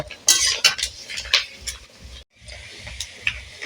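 Grated coconut frying in a pan while a metal spatula scrapes and stirs it, giving repeated clinks and scrapes over a faint steady sizzle, close and fairly loud, with a short pause midway and no talking.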